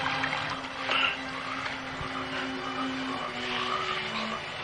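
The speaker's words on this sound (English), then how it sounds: "Hear those frogs croaking?" Frogs croaking outdoors in a steady chorus of low, droning calls over a hissy background, continuous and moderately loud without any talking.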